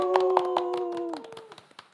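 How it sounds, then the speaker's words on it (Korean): A few people clap briefly to welcome guests at a community radio anniversary event, a short burst of scattered hand claps under a tapering sustained tone, fading within two seconds. "오신 분들 박수로 소개를 해드리도록 하겠습니다."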